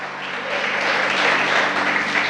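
A church congregation applauding, a broad wash of many hands clapping together that builds slightly and holds steady, moderately loud with no distinct voices.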